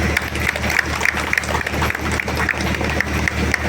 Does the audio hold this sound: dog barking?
no